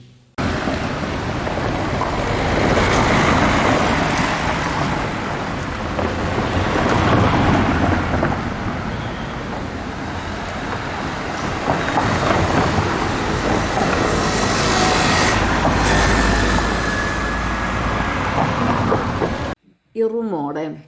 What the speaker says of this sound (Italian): Sentite il rumore delle auto che passano in Corso del Popolo.